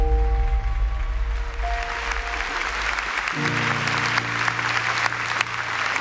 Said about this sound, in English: All please join me in another round of applause